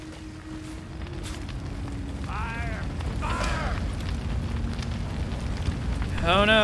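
A fire burns in a video game as a steady, broad roar that swells toward the end, with warbling voice-like cries rising over it.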